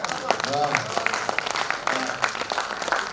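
An audience at a Hindi kavi sammelan poetry recital applauds in a loose, scattered patter while a voice speaks over the clapping.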